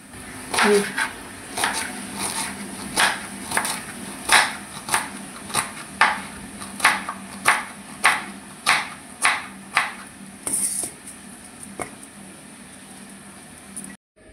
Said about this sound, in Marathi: आता अशा प्रकारे मी भेंडीचे छोटे छोटे तुकडे करून सगळ्या भेंडीचे घेणार आहे